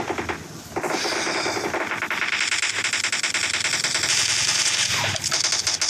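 Rapid automatic gunfire from the mobile battle game PUBG Mobile in a clash squad match rattles almost continuously, with dense bursts of shots stacking over one another and no clear pause across the stretch.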